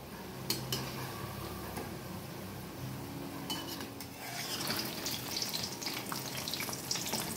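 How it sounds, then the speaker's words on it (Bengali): Tal mohan sweets deep-frying slowly in oil over low heat, a steady soft sizzle with occasional light clinks of utensils against the pan, close and continuous without talk. "একদম কমিয়ে কমিয়ে ভেজে নিতে হবে।"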